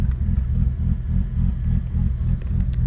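Mazda Miata engine running steadily at close range, a low throbbing rumble with a slight clatter and no voices over it.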